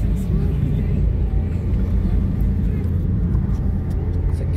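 A car rolls past near a family hot spring resort with pools and water slides, a steady, fairly loud low engine rumble that holds evenly throughout, with faint voices murmuring in the background.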